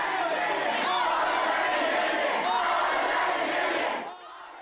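A crowd of protesters cheers and shouts continuously, loud and close, with a dense wash of raised voices that cuts off abruptly near the end, leaving quieter background.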